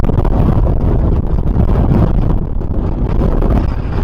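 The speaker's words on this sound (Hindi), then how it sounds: "इतना तेज हवा चल रहा है" Strong wind buffeting on a motorcycle ride through the Nubra Valley descending from Khardung La, a loud, continuous roaring rush with gusty rises and dips, dominating everything near the microphone.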